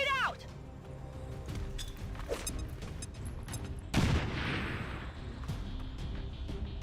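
Grenade blast and gunfire in the strategy video game XCOM 2 with the Long War 2 mod, a loud burst of explosion midway amid rattling shots and game noise, with a voice talking over it.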